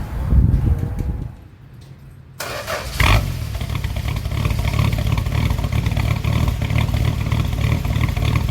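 A 1974 Dodge D100 truck engine with a rich-running carburetor cranks and catches, then settles into a steady, rough, loud running idle close by.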